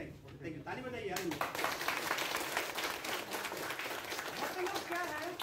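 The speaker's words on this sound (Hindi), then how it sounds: "ताली बजाइए यार" Audience applause at a DXN health and wealth education program in Doha, Qatar: a sustained burst of many hands clapping, loud and dense, rising quickly and holding steady throughout.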